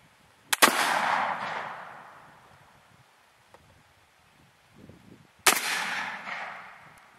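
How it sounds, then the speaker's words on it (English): A Van Wart Son & Co side-by-side 12 gauge percussion muzzle-loading shotgun with Damascus barrels fires black powder loads. Two loud, booming outdoor blasts come about five seconds apart, each trailing off, with wind noise between. "12 gauge black powder, Damascus barrels, and it's muzzle loading."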